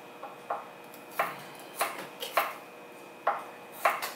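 A knife slices garlic on a cutting board in a quiet kitchen, making about nine light, crisp taps at an uneven pace, close and fairly soft, with no talk.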